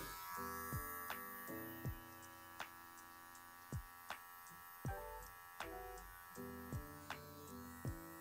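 Electric hair clippers humming steadily while cutting a child's hair, a close, constant buzz with small regular clicks and brief snipping accents through the cut, and no talking.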